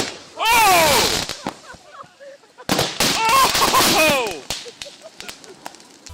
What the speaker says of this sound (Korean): 아주 파바박 연기까지 나면서 폭발하죠